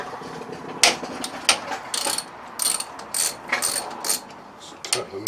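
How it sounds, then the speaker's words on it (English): A nut being loosened from a surface grinder part gives off a series of sharp metallic ratcheting clicks in uneven bursts, close and moderately loud. "let's take the nut off, won't we?"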